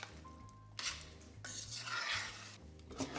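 Pasta and shrimp tossed together in a pan, with bursts of stirring, scraping and clattering cookware over a low steady hum, the loudest rustling near the middle and end.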